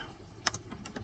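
Several quick, light keystrokes on a computer keyboard, a brief close cluster of clicks followed by a couple more taps in a quiet room.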